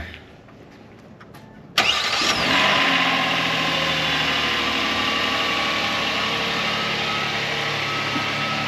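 Diesel engine cold-started after its glow plugs have been run, a quiet moment with faint clicks before the starter catches and the engine fires abruptly into a loud, steady idle with a high whine that continues to the end.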